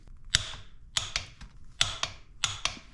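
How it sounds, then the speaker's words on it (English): A torque wrench clicks sharply while tightening the front sprocket bolts on a Ducati motorcycle, giving four crisp clicks at fairly even intervals, each a quick double snap, close by with faint background hum. "once you get those torqued, you'll hear the torque wrench click"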